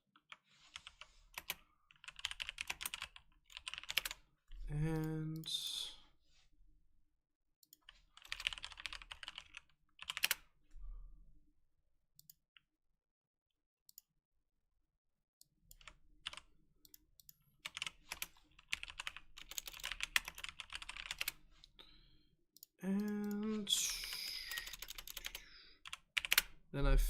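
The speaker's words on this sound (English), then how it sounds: "I am just typing in the winners." Bursts of fast typing on a computer keyboard, close and clear, alternate with stretches of spoken talk during a live game stream, with a few near-silent pauses between.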